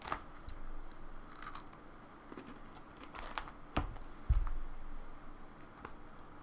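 Biting and chewing a regular Oreo cookie, with a few crisp crunches and soft mastication sounds up close, quiet and without talk.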